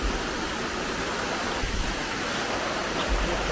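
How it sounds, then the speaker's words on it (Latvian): Waterfall on a hillside trail up Slieve Commedagh, a steady broadband rush of falling water filling the whole clip at close range, loud and continuous without pause. "Te ir ūdenskritums."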